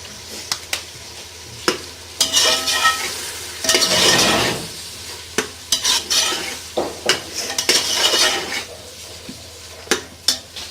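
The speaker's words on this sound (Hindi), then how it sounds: "मैक्रोनी शामिल कर इसको मिक्स कर लेंगे" Macaroni being stirred with soy sauce and chili sauce in a sizzling pan, with repeated scrapes and clinks of the utensil against the pan over a steady frying hiss, close and clear without talk.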